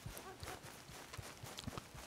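A horse's hooves clip-clopping in Red Dead Redemption 2, a series of faint, fairly regular hoof thuds at a trotting pace, with some speech faintly in the background.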